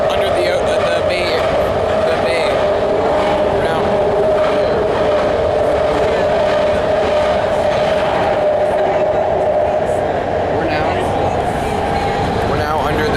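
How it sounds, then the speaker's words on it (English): BART train running through the tunnel under the bay, a loud continuous rumble and roar with a steady tonal whine and rattling from inside the car, sustained throughout. "Because the Bart goes under the bay, so now we're under the bay now."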